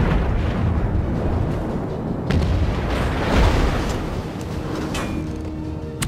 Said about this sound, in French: Je vais me mettre aux obus explosifs.